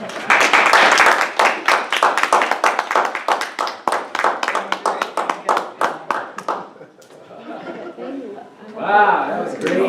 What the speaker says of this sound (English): I want to call up our esteemed Toastmaster today and give him a round of applause